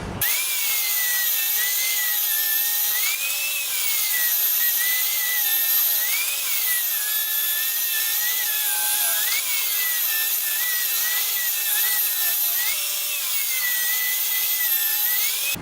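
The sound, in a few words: saw cutting walnut strips for an end grain cutting board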